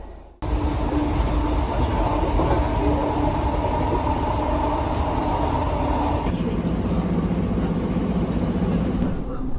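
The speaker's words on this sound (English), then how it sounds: "I can feel the kind of rattle of the train from the diesel" Diesel train on a British line rattling steadily throughout, a continuous close rumble and clatter with a tonal engine drone that shifts pitch partway through, heard from inside the carriage.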